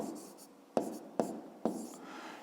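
A pen writes on paper in a few quick strokes, each opening with a crisp tap and fading into a soft scratch, three of them close together after a faint start, with no one speaking.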